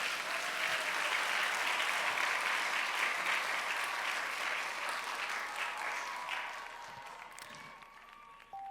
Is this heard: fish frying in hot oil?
no